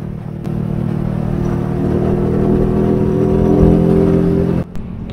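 A Honda XRM 125 FI motorcycle with a 57mm setup, held in fourth gear on a top speed run, drones steadily at high revs and builds slightly before a brief dip near the end, loud and close, with no talking.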